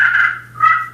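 A hand-worked turkey call imitates a hen's yelp with two quick raspy notes, close and clear, alone without any talk.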